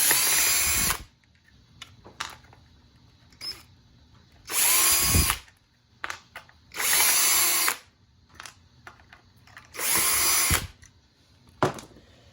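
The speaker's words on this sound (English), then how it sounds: "let's take out these 4 screws right here to hold on the upper chassis" Power drill backing out screws from the upper chassis of a Traxxas Rustler RC car, with four loud whirring bursts of a second or so separated by quiet pauses and small clicks, close up.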